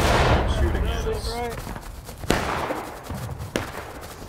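Gunfire in War of Rights, a Civil War-era shooter: a dense rattle of musket shots in the first half, then two sharp, separate cracks later over a steady noisy background.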